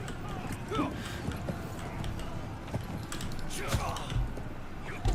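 Cavalry hooves from the battle game Blood of Steel clatter in a steady clip-clop under dense combat noise, while a player talks over the action.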